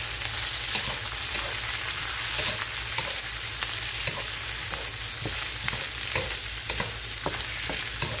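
Smoked sausage sizzles steadily as it fries in a greasy pan for cabbage and smoked sausage, with soft scrapes and clicks of stirring scattered throughout at close range and no talking.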